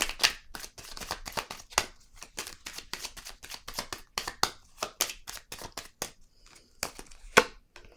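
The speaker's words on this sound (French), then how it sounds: "Je vais être sûre de bien mélanger les cartes." A deck of playing cards riffles and bridges repeatedly in quick rustling bursts, close and fairly loud, with brief pauses between shuffles and no talking.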